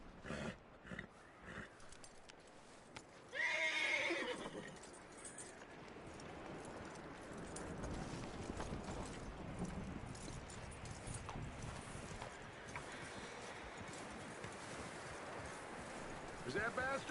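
A horse in the video game Red Dead Redemption 2, a brief neigh-like burst early on amid soft hoof clip-clops, set in a quiet outdoor ambience with wind and faint voices.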